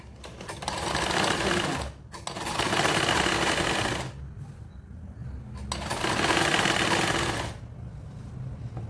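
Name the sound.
sewing machine stitching fabric along chalk line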